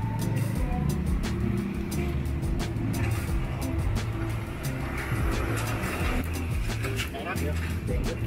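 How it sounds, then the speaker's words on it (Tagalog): A borrowed motorcycle's engine is revved, a loud, continuous rumbling drone with surging throttle, heard close and filling the whole stretch, with some background noise. "pabombahan natin muna itong hiniram natin na motor"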